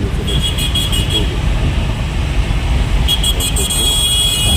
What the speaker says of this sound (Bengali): আমাদের গাড়ি এগিয়ে চলেছে দ্রুত